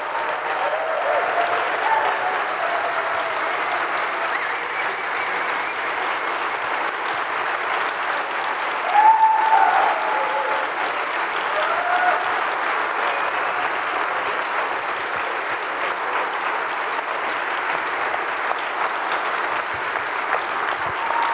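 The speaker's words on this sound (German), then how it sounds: "Applaus" Conference audience applause at the Bits & Bäume 2018 event: sustained, even clapping from a large hall that runs for over twenty seconds with a brief louder burst midway.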